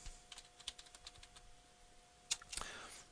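Keys clatter on a computer keyboard as a router interface IP address configuration command is entered, a fairly quiet run of separate clicks with a short burst of louder keystrokes near the end.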